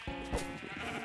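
A single short sheep bleat from Minecraft Bedrock Edition, faint and clean with no talking around it.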